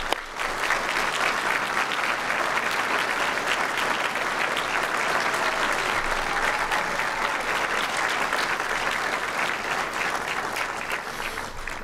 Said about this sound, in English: First round of applause for everyone.